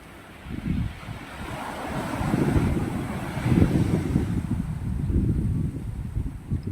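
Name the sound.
big ocean waves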